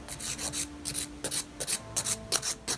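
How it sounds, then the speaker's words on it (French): A nail file rasps back and forth across the tip of a gel nail, held at a slight angle, giving about a dozen short, evenly spaced scraping strokes, close and moderately loud, with no voices. "Donc pour ça, on tient sa lime légèrement"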